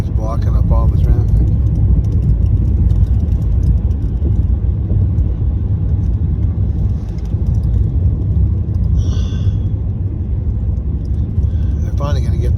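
Steady road traffic on the 10 freeway, a continuous loud low rumble of passing cars and engines with a voice talking briefly at the start and end.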